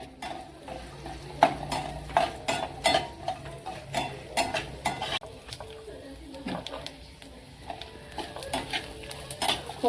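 Grated coconut being stirred in a pan until reddish, with repeated scraping and clinking of a spatula against the pan over a faint low sizzle, close and moderately loud throughout.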